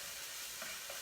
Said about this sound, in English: we're going to stir these up in our oil so that we make sure they get all covered with our oil